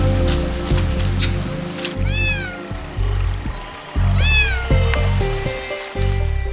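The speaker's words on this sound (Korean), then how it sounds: "다람쥐 굴 앞에 선 고양이." A cat meows twice, each a short rising-falling cry, over a steady low hum and rustling in the background.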